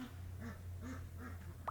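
Pet ducks quack softly in the background, three or four brief nasal calls in quick succession, faint and somewhat distant.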